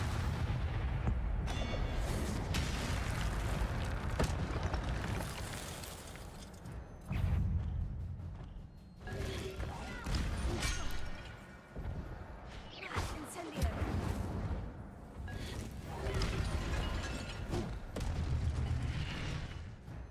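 Incendio fire spell cast in Hogwarts Legacy gameplay, dense booming bursts and crackling blasts layered over continuous game music and combat noise, with talk in between.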